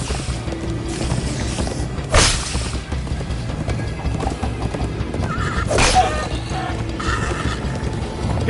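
Galloping horse hooves with loud whinnies in Minecraft: Story Mode, steady clip-clop rhythm throughout, two sharp neighs standing out, with background game music and effects.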